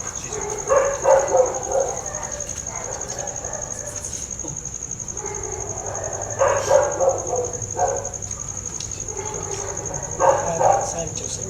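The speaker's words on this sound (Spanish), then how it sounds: "Los perros están como..." Dogs bark in short bursts of several yaps at a middle distance, recurring every few seconds under a voice, with a constant high insect-like whine throughout.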